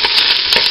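Chorizo and yellow onions sizzle loudly in a skillet, a brief close burst of frying with a couple of stirring scrapes.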